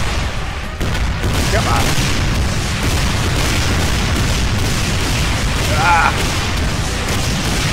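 Brutal Doom rocket launcher fires and explodes in heavy, booming blasts over a rumbling background, loud and close, with a man giving brief exclamations during the barrage.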